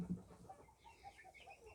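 Rooster, newly bought ornamental breed in a backyard coop, giving a few soft clucks, quiet and distant against faint background noise.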